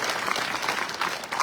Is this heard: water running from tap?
no